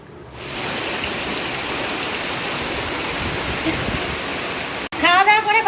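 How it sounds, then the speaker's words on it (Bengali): A heavy downpour roars steadily after a quick onset, a dense rushing hiss, then a brief break and a voice speaking over the rain at the end. "এমন মুসলধারে বৃষ্টি চলে এলো"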